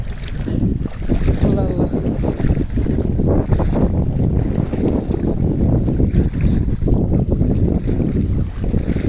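A boat's motor drones steadily over floodwater in Burichang, Comilla, during a severe flood, with strong wind buffeting the microphone throughout.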